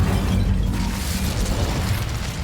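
Incendio fire spell cast in Hogwarts Legacy, a continuous loud, deep roaring whoosh of flame that rumbles steadily throughout without pause, close and dense, with no voices over it.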